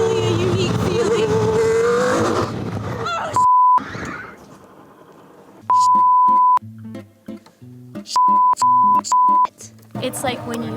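A high-powered car engine roars up close for a few seconds, its pitch wavering as it drops through the gears. Talking follows, broken by repeated electronic beeps.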